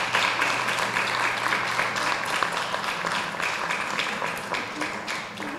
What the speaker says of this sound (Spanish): Un aplauso al coro.